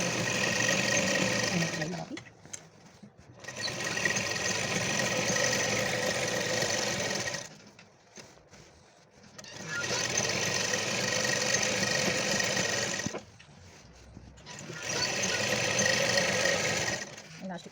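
A sewing machine stitches elastic onto a can-can skirt in three long, steady whirring runs separated by short pauses, loud and close, with a person speaking in the pauses.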